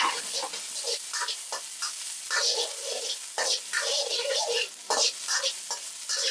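Chopped onion frying in a pan over high heat, a steady close sizzle with irregular scraping and stirring bursts throughout, no talking.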